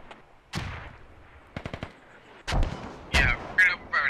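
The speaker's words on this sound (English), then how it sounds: "Those mortars are landing right where we need them." In the military shooter Squad, mortar shells land in heavy booming impacts amid bursts of rapid gunfire, a quick string of shots in the middle and loud explosions toward the end, fairly close and with no speech.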